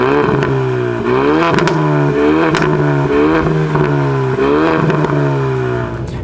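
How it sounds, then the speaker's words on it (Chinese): A Ford Mustang 2.3 EcoBoost four-cylinder with sport exhaust revs repeatedly, its loud engine note rising and falling in several surges over a steady, close exhaust drone, with no talking. "就算它是四缸，可是它的这个 sport exhaust 也是非常的好听。"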